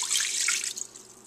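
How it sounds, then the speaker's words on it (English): Two cups of water pour into the bottom of a Ninja cooking system, a close, splashy trickling burst that fades over about a second, with no talking. "we take our 2 cups of water and pour it in the bottom of the ninja cooking system"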